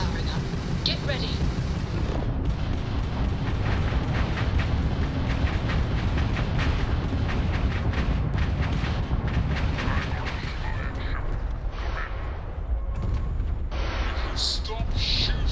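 Spaceship weapons in the space game Starfield fire in a dense, continuous barrage of rapid booming shots over a constant engine rumble, loud and sustained throughout.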